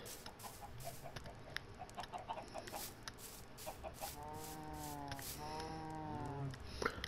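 Chickens in the video game Minecraft cluck in short repeated bursts, fairly close and clear over a busy background of game sounds.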